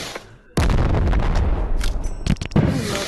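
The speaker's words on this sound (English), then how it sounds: "I'm gonna get flashbang" A flashbang grenade goes off in the game Animal Company, a loud sudden blast after a brief quiet moment, followed by a sustained roaring burst and a few sharp cracking hits, close and with no talking.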